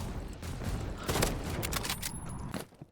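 Video game gunfire during a headshot attempt, a dense burst of sharp shots and mechanical clatter over a busy game soundscape, loud and close, fading out at the end.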